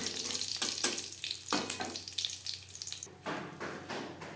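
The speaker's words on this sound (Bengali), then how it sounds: "পনেরো কুড়ি সেকেন্ড জিরে ভেজে নেওয়ার পর" Half a spoon of whole cumin seeds and slit green chillies frying in hot oil give a soft, close sizzle with crackling pops and a few stirring clicks, fairly quiet and without talk.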